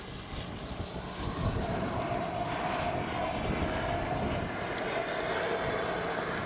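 An FMS 70mm Avanti S V3 RC jet glides past outdoors with its motor off, a soft airy whoosh rising and holding as wind rushes over the airframe, moderately loud and steady.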